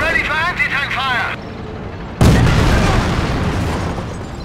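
A booming anti-tank shell blast erupts midway through a Company of Heroes battle, loud and close, followed by a rumbling, crackling wash of gunfire; a voice speaks before the impact.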